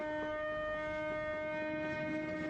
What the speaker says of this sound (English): The note played by the travelling trumpeters.